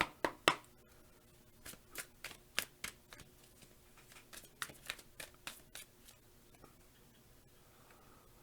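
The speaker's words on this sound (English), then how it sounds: "then I will shuffle some tarot cards and put a couple of those down" Tarot cards being shuffled by hand close up, a quiet series of crisp, uneven riffles and slaps spread across the stretch with short pauses between bursts.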